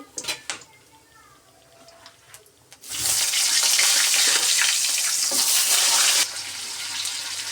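Potato and eggplant pieces hit hot oil left over from frying hilsa and tempered with black cumin seeds. A few utensil clinks come first, then a loud, dense sizzle that holds for several seconds and eases to a quieter fry.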